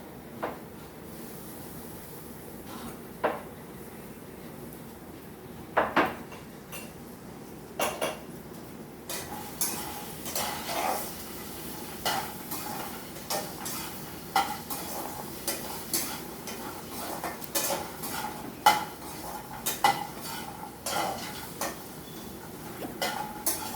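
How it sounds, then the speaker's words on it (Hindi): A metal spoon scrapes and clinks against a cooking pan as a spoonful of ghee goes in and gets stirred into dalia, with scattered taps and scrapes repeating steadily at a moderate level. "हम इसमें घी डाल देंगे।"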